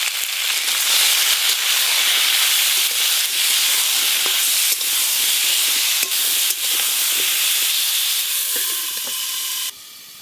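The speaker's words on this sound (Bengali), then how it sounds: "তেল গরম হয়ে গেছে, কেটে ধুয়ে রাখা পটলগুলো দিয়ে দেব" Loud, continuous sizzling of pointed gourds frying in hot oil, crackling and popping throughout, before the hiss suddenly drops to a quieter level at the end.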